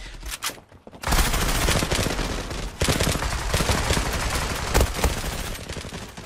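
Sustained automatic fire from an AKS-74u in the shooter game Zula, dense rapid bursts that run nearly continuously after a brief quiet start, loud and close.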